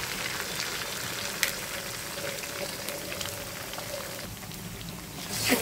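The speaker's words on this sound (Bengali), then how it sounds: "ডিমটা এখানে আমি ভেজে নেব।" An egg fries in a pan along with coconut and water lily stems, giving a steady, even sizzle that holds the whole time, close by, with no voices over it.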